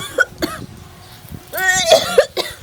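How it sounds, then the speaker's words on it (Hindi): Several harsh, close coughs come in bursts, with a voice speaking between them. "कते खांसी होइए"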